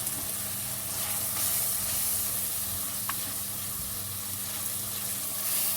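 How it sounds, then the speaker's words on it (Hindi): Spices for egg ghotala, among them cumin powder and salt, frying in a pan. A steady sizzle and hiss continues throughout at moderate level, with no one speaking. "ये सारे मसाले इसमें डाल दें और इसको अच्छी तरह भूनेंगे ताकि मसालों"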